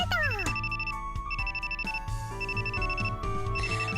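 A phone rings in the video game Aoi Tori with a bright, repeating electronic ringtone melody. It is steady and fairly loud, plays for several bars with no talking, and is backed by game music.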